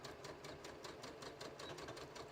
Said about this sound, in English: I'm just going to sew across the top edge of the seam allowances of the